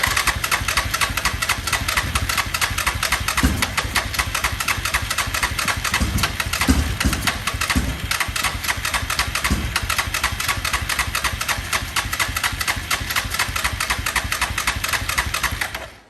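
A Yamaha Grizzly 660 four-wheeler with a backfiring problem runs steadily at a rough, loud idle for the whole stretch, with a few low thumps and pops breaking through the constant mechanical drone.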